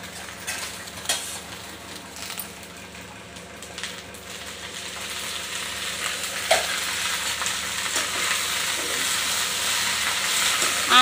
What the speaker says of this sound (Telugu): ఇప్పుడు కొద్దిగా ఆయిల్ వేసి వేయించాలి